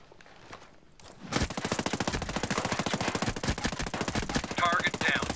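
Rapid automatic gunfire from a firefight in the tactical shooter Ghost Recon Breakpoint, starting after a quiet moment and then hammering on loud and steady, with a few faint voices underneath.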